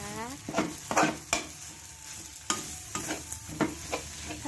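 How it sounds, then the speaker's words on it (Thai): Pad thai stir-fried in a hot pan, a continuous sizzle punctuated by rhythmic scrapes and knocks of the spatula against the pan, close up with no talking. "เราก็ผัดให้มันแห้งๆหน่อยนะคะ"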